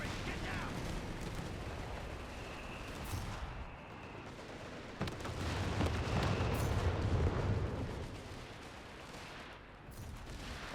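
A Panzer IV tank fires during a winter 4v4 battle in Company of Heroes 3, a heavy boom landing midway through a continuous rumble of distant gunfire and explosions.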